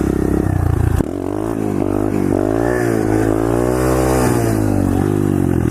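A pit bike's engine revs hard and close during a first-gear wheelie, with a sharp rise in pitch after an opening burst, then a sustained, wavering high-rev drone that holds loud to the end.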